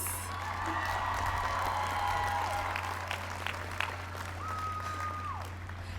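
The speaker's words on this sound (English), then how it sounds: "Give yourselves a round of applause" A crowd at a 2021 high school graduation ceremony for Plano East Senior High claps in soft, distant applause with a few whoops, over a steady low hum.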